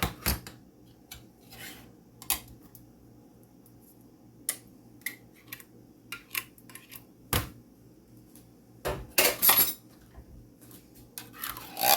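Cooked macaroni is mixed with Alfredo sauce in a pan, with sparse, fairly faint spoon clicks and scrapes spread irregularly and a denser cluster of clatter near the end.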